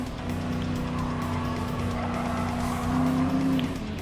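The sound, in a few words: race cars overtaking a Dodge Challenger in Gran Turismo Sport video game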